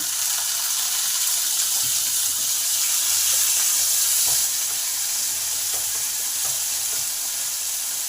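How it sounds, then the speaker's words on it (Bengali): Onion and freshly added chopped tomato fry in a pan, giving a steady, bright sizzling hiss throughout. Occasional soft stirring taps sound up close. "এই সময় টমেটোটা কাটা আছে সেটা দিয়ে দিলাম"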